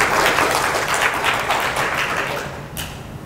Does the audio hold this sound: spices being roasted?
no